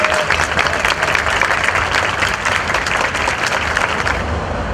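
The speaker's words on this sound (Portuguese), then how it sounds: "Uma salva de palmas para por favor." Steady, dense audience applause at a fan convention panel with Saint Seiya Portuguese dub voice actors, a tribute to voice actress Maralise, filling the room evenly and fading slightly at the end.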